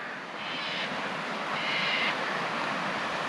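River water rushing hard past a rest area near Geehi Flats campground, a loud, steady roar of thundering current that stays constant throughout with no voices.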